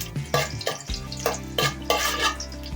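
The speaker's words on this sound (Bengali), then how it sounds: "এটা একটু হালকা করে ভেজে নেব।" Dried red chilies and panch phoron spices for a vegetable dal fry in hot oil, with a soft sizzle under repeated scraping and stirring of a spoon against the pan, close and without talk.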